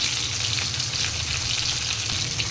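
Pieces of katla fish frying in hot oil, an even, dense crackling sizzle held steady and close throughout, with no talking.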